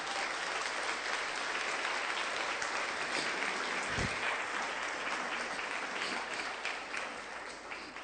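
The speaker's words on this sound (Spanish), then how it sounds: "Dele un fuerte aplauso a Cristo por eso" A church congregation applauds loudly and continuously, a dense wash of clapping from many hands that holds steady throughout and eases slightly toward the end.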